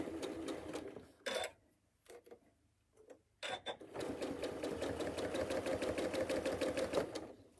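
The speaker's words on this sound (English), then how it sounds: "So now I'm actually going to sew a 1/4 inch seam." Sewing machine stitching a quarter-inch quilting seam, a few short stops and starts before settling into a long, steady rapid clatter, close and alone.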